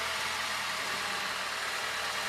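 A car engine runs at a steady idle, a low continuous hum with a constant rumble, moderately quiet and alone without voices.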